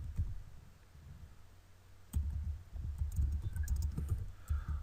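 Fingers type on a computer keyboard nearby, a quiet stream of soft clicks that thickens into a steadier run of keystrokes in the second half, with no talking.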